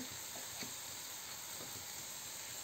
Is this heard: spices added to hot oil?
yes